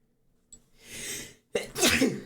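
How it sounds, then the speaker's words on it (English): A soft breathy intake builds up, then a sharp, explosive sneeze bursts out close by, followed by a brief airy trailing exhale. "I'm gonna sneeze."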